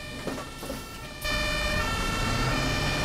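In the OMSI 2 bus simulator game, an ambulance siren wails steadily over a low vehicle rumble. It grows abruptly louder and fuller partway through and holds there.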